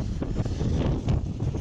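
Wind roars across a snowy mountain slope high among penitentes, a close, heavy, rumbling buffet against the microphone with no voices.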